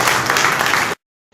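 An audience applauding at a public gathering, a dense, loud burst of clapping that stops abruptly, followed by a short silence and then a faint trace of sound.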